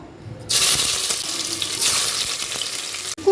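Chopped onions dropped into hot oil for mutton bhuna, a loud sudden burst of hissing sizzle that holds steady for a few seconds, then briefly cuts off.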